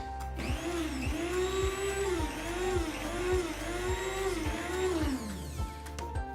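Small blender whirring through a homemade natural makeup foundation, a steady motor hum that pulses rhythmically about once a second for several seconds, then stops abruptly, close and alone without talk.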